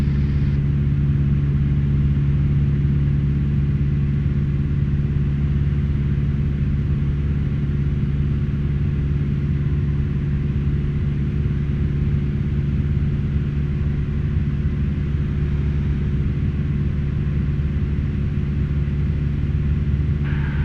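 A Cessna Skyhawk light aircraft engine drones steadily in flight, a low, even hum with a constant tone that holds unbroken from start to finish.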